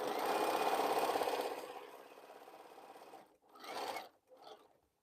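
Home sewing machine stitching a quilt, a steady mechanical whir for the first second and a half that tapers into softer running, then two short bursts of stitching near the end.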